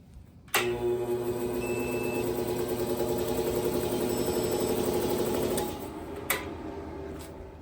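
A large Craftsman air compressor straining to start on a 3.5k PowMr DIY power station: a loud, steady motor hum with a dense whine that runs about five seconds, then drops off, followed by a clack.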